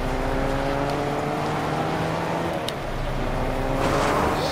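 A car being driven in the Fortnite video game gives off a continuous engine hum with steady tonal harmonics and a small dip and rise in pitch, loud and close with no talk over it.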